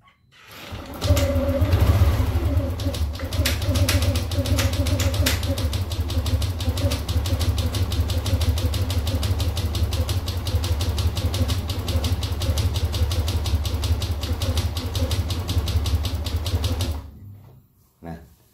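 A Yamaha Aerox 155 scooter engine is started and then idles for about sixteen seconds. The idle is steady and fairly loud, with a fast ticking mechanical rattle, and it cuts off abruptly near the end.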